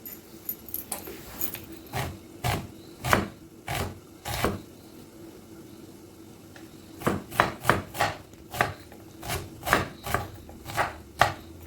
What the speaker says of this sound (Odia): ଏମିତି ପିଆଜ କାଟିଦେବା।